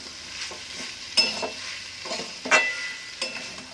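Mashed deboned fish is stirred into a fried lentil paste in a pan, with a soft sizzle under a few distinct scraping strokes of the spatula, spaced about a second apart.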